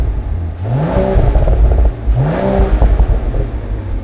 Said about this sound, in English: Here we can listen to the standing revs,